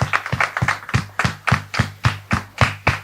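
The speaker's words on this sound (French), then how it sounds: "merci de le recevoir sous vos applaudissements" A few people clapping to welcome Pastor Tchoumou, sharp separate claps in a steady rhythm, close and moderately loud, about ten claps with no talking.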